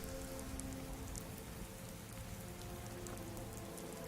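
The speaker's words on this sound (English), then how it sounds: "looks like we came out into the rain." Rain falling in Skyrim Special Edition, a faint, even patter of drops on the ground with a low ambient hum beneath, steady throughout and no voices.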